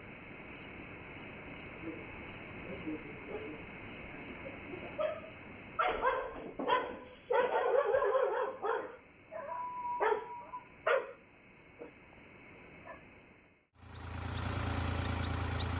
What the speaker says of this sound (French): Il y avait un chien super vigilant